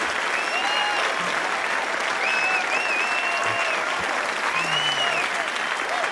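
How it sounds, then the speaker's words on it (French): Studio audience applauding steadily at a French-language Quebec talk show about art and artificial intelligence, dense sustained clapping with faint whistles and cheers mixed in throughout. "vous pouvez les applaudir pour vraiment leur donner la"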